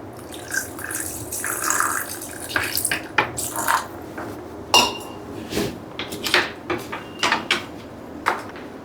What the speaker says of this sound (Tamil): இது முழுகிற அளவுக்கு இப்போ தண்ணி ஊற்ற போகிறோம்.